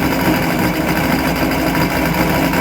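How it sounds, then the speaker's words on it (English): An inboard engine on a Luhrs 28 boat runs after carburetor work, a loud, steady, close-up mechanical drone with a fast buzzing vibration and no breaks, without any talking over it. "while the engine is running, I'm going to put the hatch"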